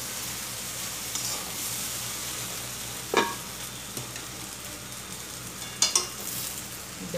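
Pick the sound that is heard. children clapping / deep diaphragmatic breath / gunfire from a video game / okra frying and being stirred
okra frying and being stirred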